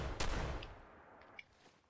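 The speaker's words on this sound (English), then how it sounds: "You can see there the flashette shooting out. Radioactive harpoon shotgun." A radioactive harpoon shotgun fires in the Fallout 4 video game: one sharp, loud blast with a fading tail, followed by a smaller metallic click or impact, no voices.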